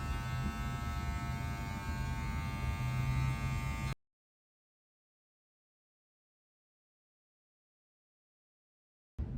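An electric razor buzzes steadily and close up while shaving a head, running for about four seconds before the sound cuts to silence, and it returns briefly at the very end.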